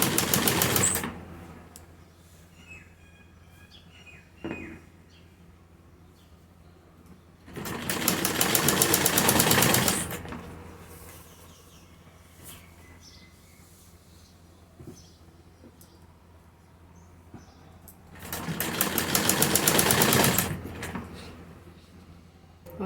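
A sewing machine stitches salwar fabric in two loud, sustained runs of about three seconds each, separated by long quiet pauses filled with faint handling noises.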